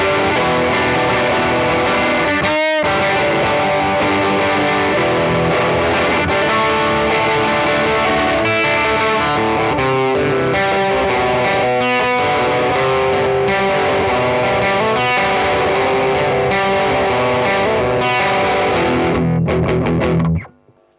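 Electric guitar played through a One Control Baltic Blue Fuzz pedal on the bridge pickup, loud thick distorted chords ringing continuously for about twenty seconds with a brief gap near the start, then cutting off.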